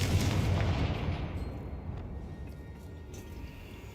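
A fire spell blast in the Hogwarts Legacy video game, a heavy booming explosion that rumbles and slowly fades away over several seconds, loud and alone.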